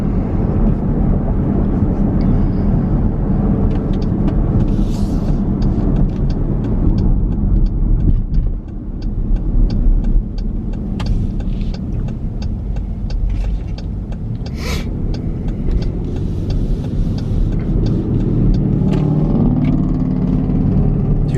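A pickup truck passes by a lake, a steady low engine and road rumble that swells and lingers for a long stretch, with faint scattered knocks and no talking.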